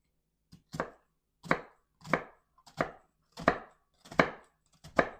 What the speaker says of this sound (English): The easiest way to chop the onion is with your fingers like this